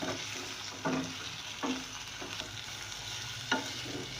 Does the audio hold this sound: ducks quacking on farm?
no